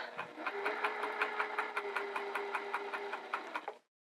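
A sewing machine stitches binding around a fabric curve, its rapid even needle clatter running steadily for a few seconds before stopping abruptly, with no voices.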